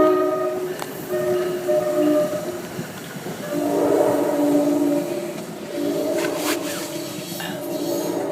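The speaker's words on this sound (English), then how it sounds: "Sorry for the train." A train passes nearby, a sustained rumble of rail noise with horn tones sounding through it, moderately loud and fairly steady.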